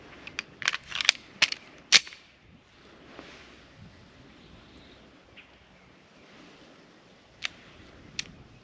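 Sharp cracks from a Beretta 92 pistol ring out outdoors: a quick string of about six shots in the first two seconds, a pause, then two more spaced shots near the end.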